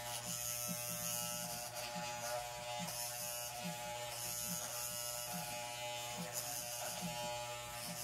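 Electric hair clippers trimming hair at home, a steady close-up buzzing hum with a faint rhythmic pulsing as the blades pass through the hair, running continuously with no talking.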